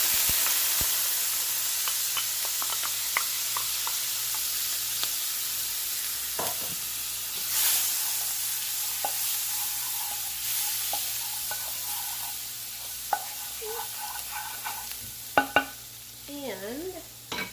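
Minced garlic sizzles in a hot frying pan for a shrimp and grits dish, a steady frying hiss with light stirring clicks, growing busier near the end, with no talking.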